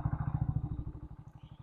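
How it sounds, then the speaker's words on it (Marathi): A motorcycle engine with a slightly rough, raspy sound fires up and settles into a steady, rapid idle, its low thumping pulses close and loud throughout, with no talk. "चला बाईक स्टार्ट करू पहिले."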